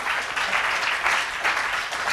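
An audience claps at a GoLab 2018 conference talk on computer vision with Go and OpenCV, a steady, moderately loud patter of many hands that swells slightly in waves.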